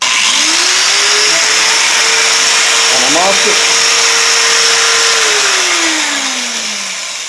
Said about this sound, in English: Harbor Freight sanding belt cleaner